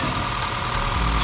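A Honda Fit's engine idles smoothly with a steady, even rumble that holds close and constant throughout, with no voices over it.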